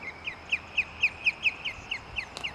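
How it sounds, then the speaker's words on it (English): Outdoors in the northern British Columbia forest, a bird repeats a sharp call about ten times in a quick, even rhythm, fairly close and clear above faint background noise, with no talking. "What is that bird?"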